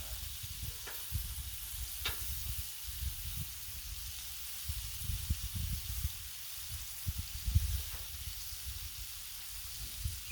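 Shrimp and vegetable stir fry sizzles steadily on a Blackstone griddle set to medium-low, a continuous close frying hiss with a few small pops and clatters scattered throughout, no voices.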